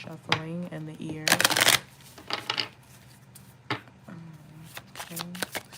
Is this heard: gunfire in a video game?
no